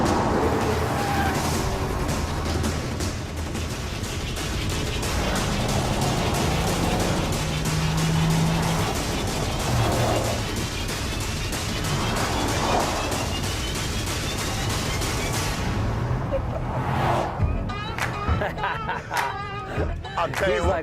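A 2012 Dodge Challenger SRT8 drifting through a turn, its engine roaring steadily with tire noise under it, loud and continuous, while people talk excitedly over it.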